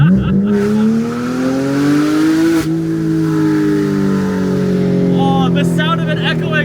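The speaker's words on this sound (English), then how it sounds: "Oh, the sound of it echoing off the rock walls." A Porsche cup car's engine revs loud and close, its rising and falling tone echoing off rock walls, while people talk over it.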